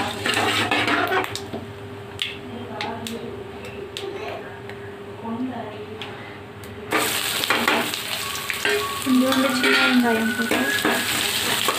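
Small onions tossed into hot oil with curry leaves for a fish kulambu hiss and sizzle steadily, the frying swelling louder and brighter halfway through as they hit the pan, with clinks of stirring and a voice talking over it.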